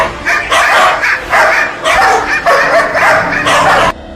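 Several dogs bark and yip in an agitated cluster, six or so sharp close bursts following one another in irregular rhythm over a few seconds, fairly loud and with no voices.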